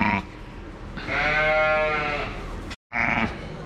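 A ewe and her newly grafted lambs bleat on a farm, a long close wavering bleat sustained for nearly two seconds between shorter calls, with a brief silent gap near the end.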